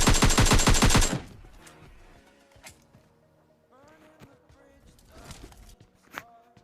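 Gunfire in the mobile battle-royale game PUBG Mobile Lite opens with a loud rapid automatic burst, then fades to scattered single shots, footsteps and game effects.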